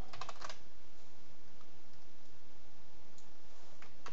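Python code being typed on a computer keyboard, a short cluster of quick key clicks at the start, then faint scattered taps over quiet room noise, close and soft.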